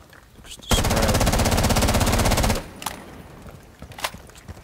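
F2 assault rifle in Rainbow 6 Siege firing one sustained, loud full-auto burst of about two seconds with a fast, even rhythm, followed by a few scattered quieter clicks and impacts.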